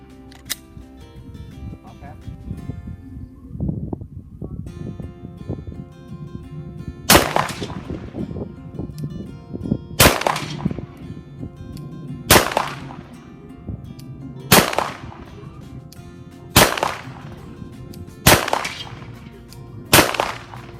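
Seven loud, sharp gunshots crack out at a shooting range, spaced about two seconds apart after a stretch of background noise and a few quieter knocks, each shot ringing out over a steady low hum.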